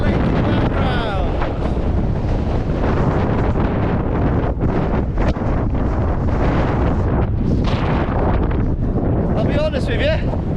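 Strong gusts buffet the microphone in a continuous roaring rumble beside a mountain lake, with faint water lapping underneath and a voice breaking through now and then.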